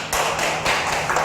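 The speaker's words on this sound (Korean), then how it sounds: "박수 감사합니다." A short, dense burst of audience applause at a Korean essay-writing admissions seminar, close and full, with no talking over it.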